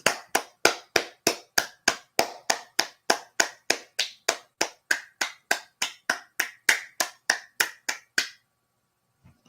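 Round of applause for Retro and Amy: a single pair of hands clapping close and loud in a steady, even rhythm, about thirty sharp claps, then stopping into silence.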